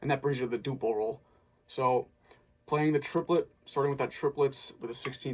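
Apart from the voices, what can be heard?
No distinct noise like a dog, phone or traffic.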